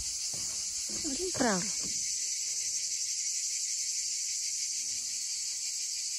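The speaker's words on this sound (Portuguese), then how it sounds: "É ou não é lindo este cantar das cigarras?" Cicadas singing near a cold water spring, a loud continuous high buzzing that fills the whole stretch, with a person speaking briefly over it near the start.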